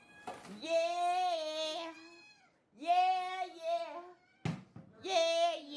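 A cat meows three times in long, drawn-out cries, close and fairly loud, with a person speaking briefly between the meows.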